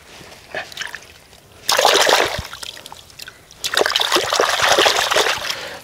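Splashing and trickling water as someone wades through a shallow stream while bamboo-stick fishing, two loud bursts of sloshing separated by quieter dribbling, close up with no talk.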